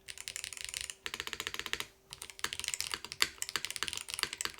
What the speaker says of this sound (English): Might be the best HE keyboard I've ever heard.